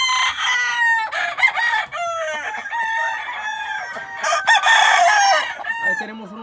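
A Caguán crossbred rooster crows loudly and close by, several long drawn-out calls overlapping one another with brief pauses between them.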